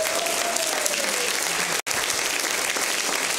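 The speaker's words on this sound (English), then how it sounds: "Let's receive her with a hand clap of praise." A congregation at St James AME Zion church gives a dense, loud wash of applause at an evening praise concert, sustained and crowd-wide, with a brief cut midway and faint voices mixed in.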